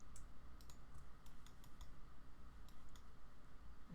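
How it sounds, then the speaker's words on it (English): A computer mouse clicks while OpenStreetMap bus route relations are edited in the JOSM editor. The clicks are light, sharp and irregular, heard alone over a faint steady room hum. "Just gonna make sure we click that properly."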